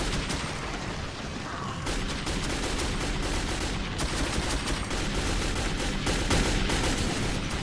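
Gunfire in the Metro 2033 video game, a dense run of loud repeated shots and bursts crackling almost continuously after a brief lull at the start.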